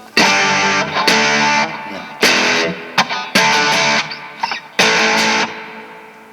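An electric guitar runs through an overdrive pedal with heavy distortion, playing loud, gritty strummed chords in separate bursts with short pauses between them.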